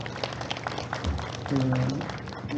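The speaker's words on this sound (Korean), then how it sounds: "한금순 박사님께 큰 박수 부탁드리겠습니다" An audience at a talk show marking the 100th anniversary of Jeongbangsa temple in Seogwipo claps in a steady, moderately loud wash of applause, with a voice speaking over part of it.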